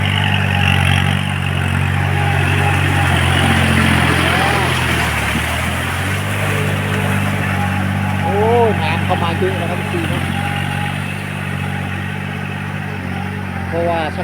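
A farm tractor engine runs steadily with a deep, droning chug close by in a rice field, while a voice speaks intermittently over it.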